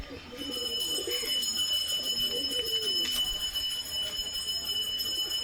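Pigeons cooing in a loft, soft repeated low coos overlapping throughout against a steady high electrical whine and faint background hum.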